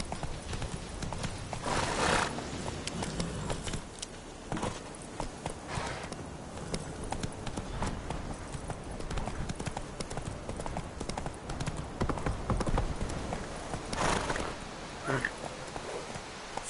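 The horse Roach galloping in the video game The Witcher 3, hooves pounding in a fast rhythmic clip-clop throughout with an occasional whinny, close and loud.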